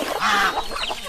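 Free-range farm chickens give a short, close, loud cluck with a rising squawk, with other fowl calls faintly behind it.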